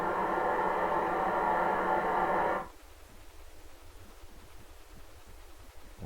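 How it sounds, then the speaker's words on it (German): Blowdown effect from the digital sound module of a PIKO DB class 221 model diesel locomotive: a loud, steady hiss of steam-like noise that cuts off abruptly after about two and a half seconds, leaving faint background. "Das war das Geräusch des Abschlammens."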